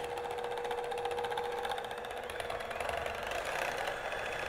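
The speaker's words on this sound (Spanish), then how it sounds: "Y voy a batir a velocidad alta hasta que todo esté bien cremosito." An electric mixer runs at high speed, beating banana cake batter with vanilla and whipping cream, giving a steady, continuous motor whine that holds level throughout with no talking.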